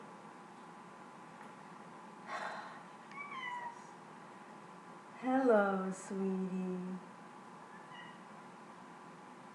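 A cat meows several times, a couple of short calls followed by a louder drawn-out meow, close by in a quiet room over a low hiss, with a brief spoken greeting.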